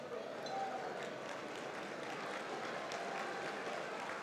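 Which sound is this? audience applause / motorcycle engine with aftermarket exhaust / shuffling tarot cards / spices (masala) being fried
audience applause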